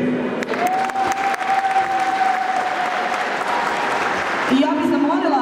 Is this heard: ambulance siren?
no